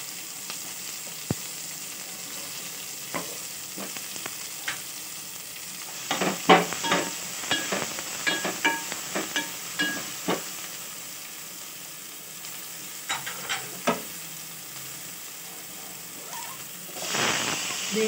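Onion pieces frying in a pan for restaurant-style dal khichdi, a steady close sizzle with scattered spatters and occasional stirring scrapes, no talking.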